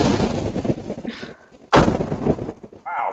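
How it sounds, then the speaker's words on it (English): Deep, booming blasts roll out one after another, a loud burst near the start and another sharp crack midway, with rumbling debris and crackle trailing each. "Wow, there's explosions."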